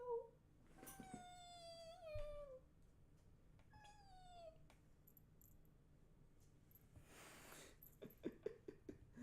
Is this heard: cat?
yes